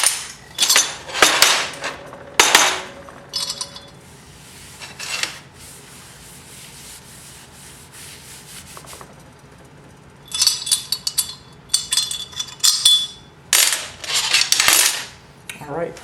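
A cooled aluminum casting is knocked free from its mold in a garage: bursts of metallic clattering, scraping and rattling come in several clusters with quieter gaps between them, close and fairly loud.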